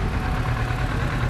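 Kawasaki Z650 motorcycle engine idling steadily with a low, even rumble throughout, close and alone without talk.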